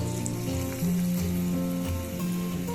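Banana bajji fritters sizzling and frying in hot oil, a steady close crackle with a brief louder burst as more battered pieces go into the oil, no talk.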